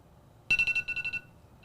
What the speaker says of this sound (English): Now that our timer has gone off